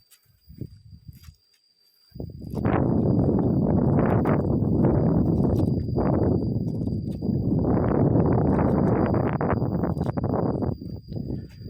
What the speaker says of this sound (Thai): ลมพัดเย็นสบายมาก